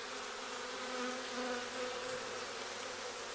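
Honey bees buzz steadily across an April beehive comb, a dense, continuous drone of many wings close by with no talking.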